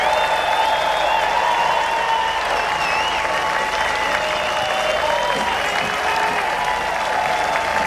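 A concert audience at the BBC Proms in Belfast claps steadily in sustained, dense applause, with crowd murmur and faint whistles or cheers mixed in, continuous and fairly loud throughout.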